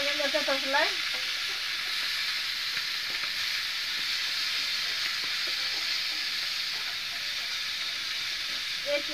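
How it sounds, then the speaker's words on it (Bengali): Fish sizzles steadily in hot oil in a pan that has overheated enough to catch flame, a continuous close crackling hiss with small stirring clicks and no talking. "দেখো খুব সুন্দর ভাজছে"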